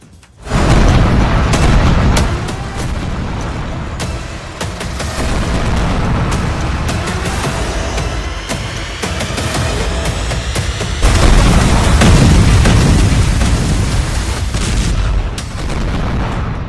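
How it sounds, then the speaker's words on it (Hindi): Bombs dropped from fighter jets exploding on the ground in a war strike, a sustained barrage of heavy booms and rumbling blasts rolling on for over fifteen seconds, loud and dense, with no talking. "जंगी जेट से बरसे बम जब धरती पर फट रहे हैं"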